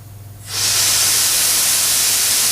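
Air bursts out of a leak in a Burstoff plumbing installation, starting abruptly after a brief low hum and continuing as a loud, steady, close hiss.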